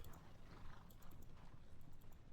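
Horse hooves of a horse artillery battery moving in a Napoleonic wargame set at the Katzbach: a dense, steady clatter of clip-clopping with a few brighter taps, no talking.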